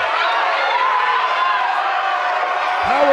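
A dense, loud crowd roars and cheers at a live MMA cage fight, a steady wall of voices and whoops holding without letup from start to finish.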